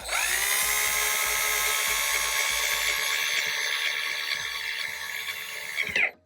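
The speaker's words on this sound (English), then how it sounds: "Use a drill because it's faster" A power drill drives screws into a light fixture mounting plate with a loud, continuous high whine that holds steady for about six seconds before cutting off abruptly.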